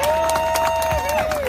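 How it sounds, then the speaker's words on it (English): Crowd applause and some cheering for the three women on a Toughest Mudder Europe obstacle-race podium, a continuous clapping wash with a speaking voice over it. "give our 3 ladies a massive round of applause"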